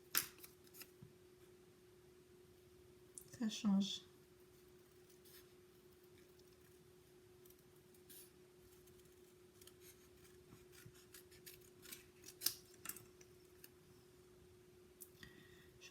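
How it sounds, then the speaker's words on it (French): Scissors cut through thick watercolor paper in a few quick snips close to the mic, with a brief louder cutting burst near the start, then quiet scraping and rustling, while a steady electrical hum runs underneath. "j'ai pas l'habitude de découper le papier aquarelle,"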